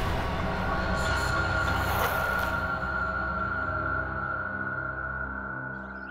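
A train rumbles and rolls at a railway platform, a loud continuous roar of wheels on track with a faint high squeal, easing slightly toward the end, no speech.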